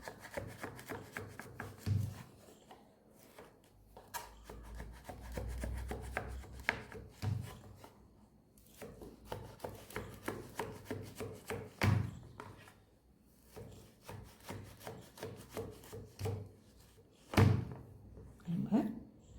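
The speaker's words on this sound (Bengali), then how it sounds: "এবার এটাকে পিস করে প্লেটে তুলবো।" Knife cuts a frozen sugar-free makhana dry-fruit ice cream into pieces, a series of close, irregular chopping thunks and scrapes with occasional harder knocks, interspersed with talking.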